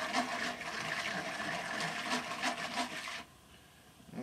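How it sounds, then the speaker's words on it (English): Eggs being stirred together with evaporated milk in a bowl for a Dutch oven pumpkin dump cake, giving a steady scraping, sloshing whisk for about three seconds before it stops and only faint room noise remains. "Just mix this up with our eggs."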